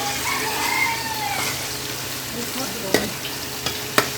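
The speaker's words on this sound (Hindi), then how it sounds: "इसके अंदर हमने अदरक लहसुन का पेस्ट डाल दिया, अच्छे से मिक्स करेंगे" Ginger garlic paste fries in a pan with a continuous close sizzle, then a few distinct spoon taps and scrapes near the end as it is mixed.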